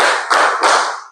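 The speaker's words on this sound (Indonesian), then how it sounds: "Tepuk 1, tepuk 2, tepuk 3." A classroom of children clap together in a quick counted rhythm, a few sharp, close group claps in rapid succession.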